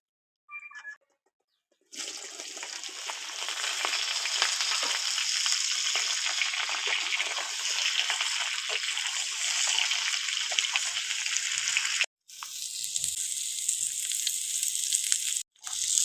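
Green jackfruit pieces fry in hot oil, a loud, bright, continuous sizzle that starts abruptly after a brief quiet and cuts out twice near the end, close up and with no talk.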